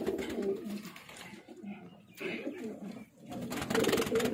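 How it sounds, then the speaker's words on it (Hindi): Flying pigeons coo in soft, low murmuring bursts close by in Peshawar, Pakistan, with rustling and faint background noise between the calls. "ये वाला कबूतर है, ये काला"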